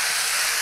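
Plain water splashed into a hot pan of bacon-wrapped walleye pinwheels makes a brief, loud, steady hiss of steam, close up and alone.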